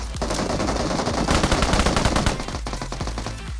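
Rapid automatic gunfire from enemies in the mobile battle royale game BGMI, loud sustained bursts with sharp repeated shots filling the whole stretch, no talking over it.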